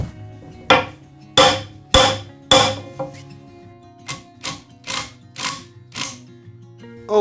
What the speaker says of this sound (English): I drive a long screw up from the bottom of the column into it.